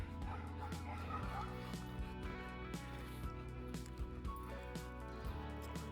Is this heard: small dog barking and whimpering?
yes